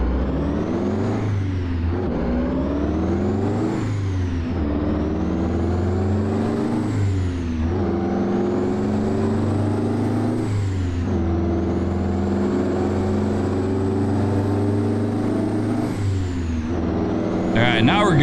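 A virtual truck engine in American Truck Simulator drones steadily, rising and falling through repeated gear shifts as the truck drives along, loud and continuous with no talking.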